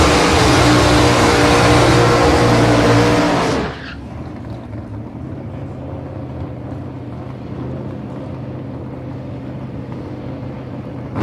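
LJ Torana drag car with a 434 cubic inch Chev engine blasting loud and close at full throttle for several seconds, then abruptly dropping away to a distant fading rumble.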